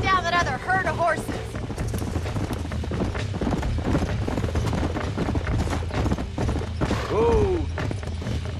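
Horses galloping in the Western video game Red Dead Redemption, a steady clatter of hooves over a dense bed of game sound, with a short whinny rising near the end.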